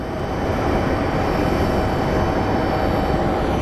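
An airliner arriving from Houston at Phoenix Sky Harbor, a loud, steady broadband engine roar and rumble, close and sustained throughout.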